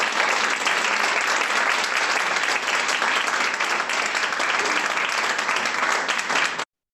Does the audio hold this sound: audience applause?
yes